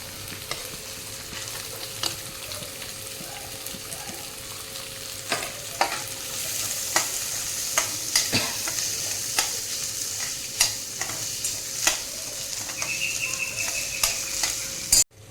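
Onion is stirred in a pan with ginger and garlic, frying with a constant sizzle while a spoon scrapes and taps against the pan at irregular intervals over the whole stretch, ending with a sharp knock.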